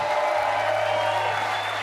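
Audience applause at the Dock Masters finals, a steady, dense wash of clapping that runs throughout the short stretch at moderate loudness.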